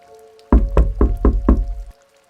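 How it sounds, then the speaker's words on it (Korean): Five firm, evenly spaced knocks on a door, close and loud, with a faint steady hum in the background. "문을 두드리며 이야기했죠"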